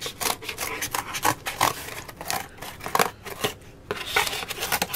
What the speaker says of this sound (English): now I'm just going to cut them out